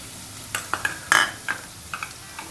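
Ginger-garlic paste, turmeric and salt frying in a pan for an egg-and-onion curry, a soft sizzle under a handful of sharp metal spoon scrapes and taps, close and quiet, no talk.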